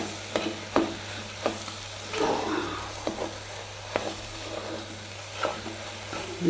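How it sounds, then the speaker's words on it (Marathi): A utensil scrapes rhythmically around a pan every second or so over a soft, steady sizzle of frying food. "मीठ टाकल्यावर परत एकदा व्यवस्थित हलवून देते"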